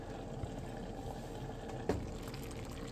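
Soy chunks cook in a pot of boiling water, giving a low, continuous bubbling and simmering at moderate distance with one small splash near the middle and no talking.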